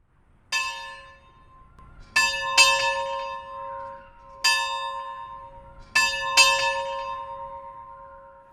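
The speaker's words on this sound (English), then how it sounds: "listening to the peal of the bell of the original one-room schoolhouse" An old school bell from an original 1892-era one-room schoolhouse rings out in clear, resonant strikes, single and double, spaced a second or two apart, each tone ringing on and slowly fading.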